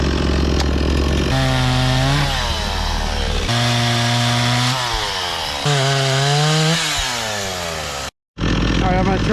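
A Stihl MS 260 Pro chainsaw that had been stalling revs hard and rises and falls in pitch as it works through cuts, loud and close, before cutting out abruptly and restarting near the end.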